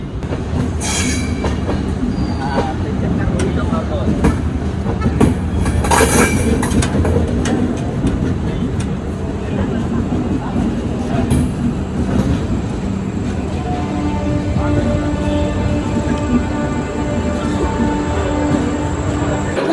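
A passenger train running as it nears KSR Bengaluru station, with a continuous loud rumbling roar of wheels on rails, rattling carriages and occasional squeals and clicks heard from onboard.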